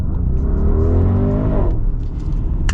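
A 2021 Audi RS Q8 accelerating hard, its loud engine note climbing steadily in pitch for about a second and a half before easing off. A brief hiss follows near the end.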